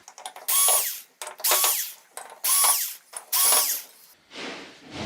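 A power drill backs screws out of the metal plate covering the T-con board on a Samsung UN60FH6003 TV: four separate whirring bursts, each roughly half a second long with short pauses between them. A softer scraping rustle follows.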